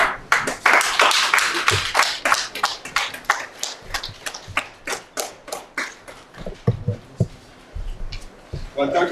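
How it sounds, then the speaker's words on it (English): A small group claps at a contract signing ceremony on a stage, sparse individual claps and taps spread unevenly over several seconds, a few at a time rather than a full ovation. "Let's applaud."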